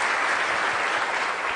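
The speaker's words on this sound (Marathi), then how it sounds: "तर आपण पुन्हा एकदा रामकृष्णसाठी जोरदार टाळ्या." A short burst of loud, dense audience applause in a hall, sustained evenly from start to finish.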